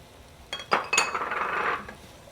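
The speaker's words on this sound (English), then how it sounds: "Love that sizzle." Onion dropped into hot oil in a pan flares into a bright, hissing sizzle that lasts about a second, with small metallic clinks of utensils near the start before it fades quickly.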